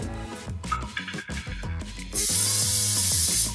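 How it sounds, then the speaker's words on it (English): A loud, steady aerosol cooking spray hisses into an air fryer for over a second over background music, starting abruptly and holding an even, bright rush. "pre-grease the air fryer with cooking spray"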